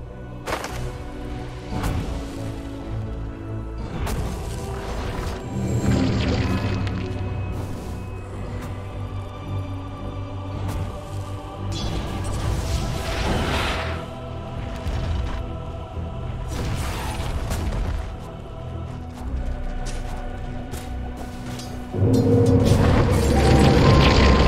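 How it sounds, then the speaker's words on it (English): A tower comes under attack in the video game Dota, with a dense mix of impact thuds, booms and spell effects over game music, loud and continuous throughout. "Radiant's middle tower is under attack."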